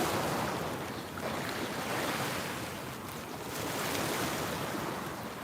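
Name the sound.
water splashing against a seawall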